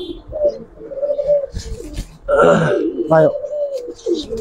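Giribaz pigeons, including a green-necked silver bird, coo in soft, throaty rolling calls close by, mixed with people talking over them.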